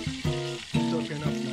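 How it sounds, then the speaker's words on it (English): Brown trout fry in a cast iron skillet, giving a steady close sizzle with an underlying tonal hum that swells and eases in a few waves, with no talking. "Cooking up nicely."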